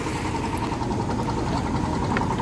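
A trawler boat's engine idles steadily with a constant low rumble and drone, a dense unbroken throb that holds at the same level throughout, with faint background activity from a riverside ferry crossing in Bangladesh.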